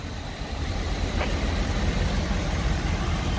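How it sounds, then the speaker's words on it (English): A 5.4-liter naturally aspirated gas V8 in a 2011 Ford E-450 Super Duty 15-passenger van idles steadily nearby, a low continuous rumble with a broad hiss and no knocking. "The idle goes up and down slightly, but there's no knocks or pins."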